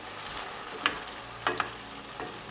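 Vegetables and partridges in a pan deglazed with dry white wine, bubbling quietly with a soft steady hiss, broken by a few short stirring scrapes and taps.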